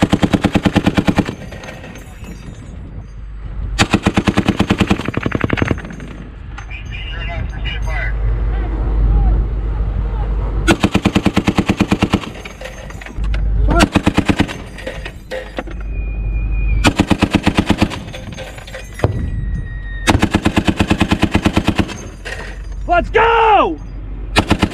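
Machine gun fire from US Marines during live-fire training on Range 410A: loud, rapid bursts repeating in long strings with short gaps between them and no talk.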